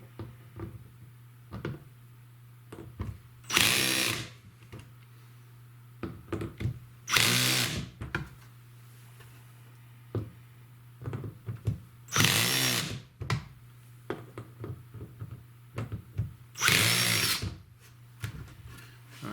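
Power drill driving screws into a Keter Easy Growing 120L plastic garden bed, four separate bursts of whirring at spaced intervals over a steady low hum, each a second or so long, with soft handling clatter between.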